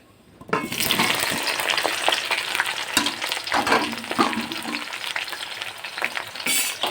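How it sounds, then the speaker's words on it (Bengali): Eggplant pieces for a Bengali begun bhorta drop into hot oil and fry with a steady, loud sizzle, broken by scraping stirs and a few brief clinks, with no talking. "তো তেলটা গরম হয়ে গেছে, তো আমি এই বেগুনগুলো এবার দিয়ে দিই।"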